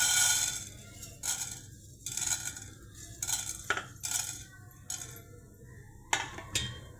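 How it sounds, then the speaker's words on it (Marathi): Dal lentils being roasted in a pan, with irregular light clinks and rattles as they are stirred and tossed, close and soft against a low background hum, no talking. "आता ही डाळ भाजून घेत आहे"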